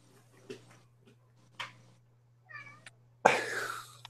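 A domestic cat meows with a short harmonic call near the end, followed by a sharper burst, over a steady low electrical hum, with a few faint thumps and clicks earlier and no voices.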